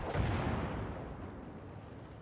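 A single tank cannon shot from an M4A1 in World of Tanks, a broad booming blast that decays over about two seconds, alone without talk.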